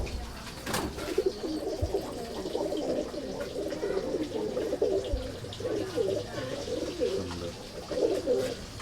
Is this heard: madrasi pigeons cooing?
yes